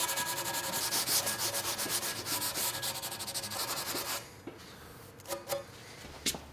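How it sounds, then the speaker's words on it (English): Hand sanding with a file and sandpaper, feathering a 1/8 inch round-over on a wooden coffee table: quick, rhythmic scratchy strokes at close range, then a few scattered rubs after a pause. "I just kind of feathered it into that 1/8 inch round over with the hand file and the sandpaper"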